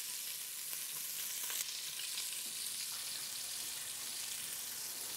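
Meatballs fry in a pan, giving a steady, bright sizzle and crackle close up with a few soft stirring clinks, continuous and without speech.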